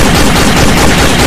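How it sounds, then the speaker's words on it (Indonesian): A cartoon gunfire effect for a comedic ghost cartoon, a loud dense burst of rapid machine-gun fire that fills the whole short moment without pause. "Aku tidak akan segan menembak kalian berdua."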